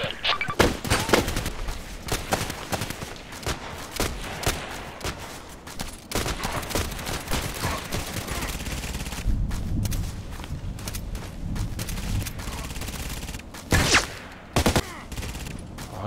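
Gunfire in the online shooter Contract Wars, with sustained crackling volleys and scattered single shots over about sixteen seconds, some distant and some closer, with footsteps and movement among them.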